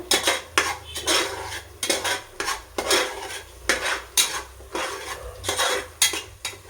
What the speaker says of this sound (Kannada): ಬೀನ್ಸು, ಕ್ಯಾರೆಟು ಮತ್ತು ಬಟಾಣಿ ಇಷ್ಟೇ ತಗೊಂಡಿದ್ದೇನೆ. ಸ್ವಲ್ಪ ಫ್ರೈ ಆಗಲಿ ಚೆನ್ನಾಗಿ.